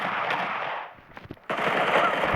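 Gunfire in the mobile battle royale game PUBG Mobile, a dense rattling automatic burst that breaks off briefly and then resumes, loud and sustained.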